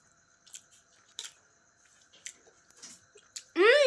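Someone eating homemade chowmein, with a few sparse, soft chewing and slurping bites close to the mic in a quiet room, then a short burst of voiced sound at the end.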